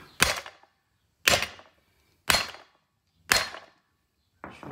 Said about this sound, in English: pound this wheel hub out with a big hammer